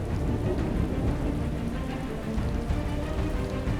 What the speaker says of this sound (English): Rain falls for over 200 days each year.